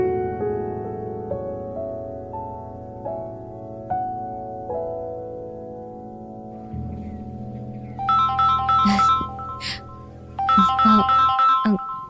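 A mobile phone rings with an incoming call during a Malayalam television drama scene, bright melodic ringtone phrases repeating in bursts over a musical background, fairly close and clear.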